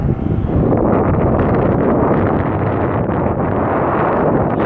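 Strong, continuous wind roars and buffets across the microphone on a Hawaiian mountain summit without pause, loud and steady throughout.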